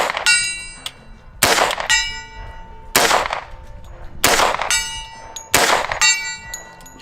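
.45 ACP rounds fired from a handgun through a prism scope ring off a steel target over 100 yards away, five sharp shots at steady intervals, each followed by a distant metallic clang and ringing tail.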